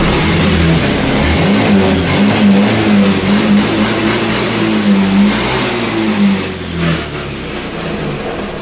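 A misfiring Honda Beat scooter engine is revved in a workshop, holding a steady loud mid-pitched drone with rising and falling throttle surges, close by and without talk.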